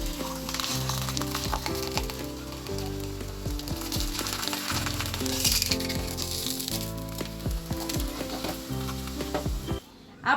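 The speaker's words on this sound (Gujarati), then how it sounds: "અને થેપલું નાખીશું. આપણે આ જ રીતે બધા તળી નાખશું." Fenugreek thepla flatbread frying in hot oil, a continuous close sizzle that holds steady for the whole clip under background music, with no talk.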